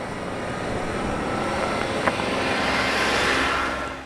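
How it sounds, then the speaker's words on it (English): A Jeep Rubicon engine drones steadily while climbing a steep grade, a continuous broad rumble with road and wind noise that swells slightly before fading at the end. "Rumbling up and down some serious grades didn't even see the Rubicon break a sweat"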